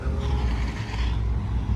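Porsche Targa GTS 4.0 engine running steadily, a low continuous rumble close by for under two seconds with no talk over it.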